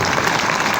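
Short burst of dense audience applause at a Delhi poetry gathering (kavi sammelan), a steady even wash of many hands clapping with no voices.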